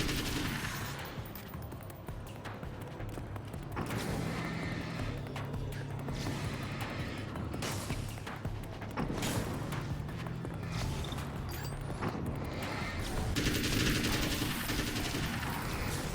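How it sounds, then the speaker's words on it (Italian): Gunfire in the video game Alan Wake's American Nightmare, with repeated bursts of shots and loud cracks spread across the scene over constant game ambience and music. "Fortuna che lo sparo l'ha preso."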